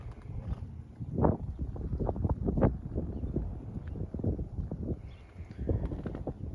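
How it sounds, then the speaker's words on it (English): Strong gusting wind buffets the microphone outdoors at a small pioneer cemetery in Wickenburg, Arizona, producing continuous low rumbling bursts that rise and fall in uneven waves throughout. "the wind is blowing a little strong"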